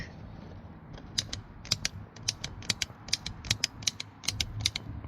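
A stiff old hi-lo beam headlight switch from a 1986 GMC Sierra is worked by hand, giving a run of sharp ratcheting clicks and creaks at an uneven rhythm, close and clear with no talk.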